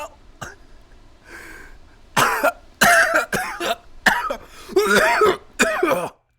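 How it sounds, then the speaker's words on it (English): A man coughs in a fit of harsh, rasping bursts, a few scattered at first and then a dense run of loud, close coughs and throat-clearing. "A coughing attack interrupted the man from saying more"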